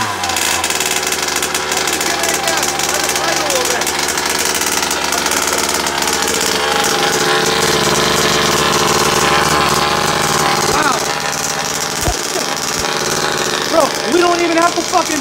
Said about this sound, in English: I'm going to open up that throttle a bit